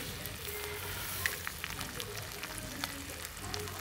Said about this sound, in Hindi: पैन में डालेंगे सरसों का तेल और कटहल को फ्राई करेंगे